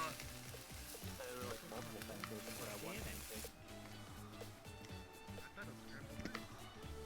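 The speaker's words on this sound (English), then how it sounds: "if you click it, it's sizzling" Food sizzling steadily in a pan, close and continuous, with a change in texture midway as background voices and other sounds continue.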